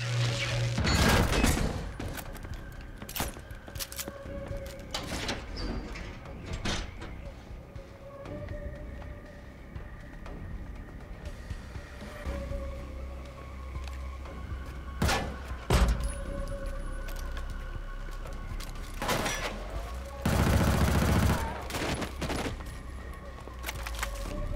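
Weapon fire in the video game Killzone: Shadow Fall, repeated sharp gunshots and volleys with heavy thuds over a constant game background, moderately loud throughout.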